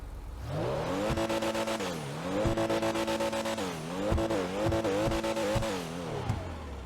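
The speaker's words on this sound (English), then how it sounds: "Let's see how this thing sounds." Pfister Comet S2 sports car engine in GTA Online, revving up and down in repeated surges with a buzzy, harmonic exhaust note, gear changes and brief tire squeals, loud and close with no talking.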